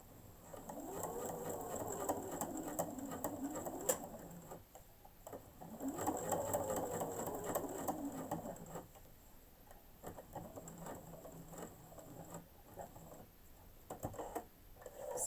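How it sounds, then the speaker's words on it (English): A sewing machine stitches a pleated fabric face mask in quiet, steady runs of rapid whirring and ticking, pausing briefly between passes, with no one talking. "Sew back to where you've sewn to, and then finish off your stitching just there."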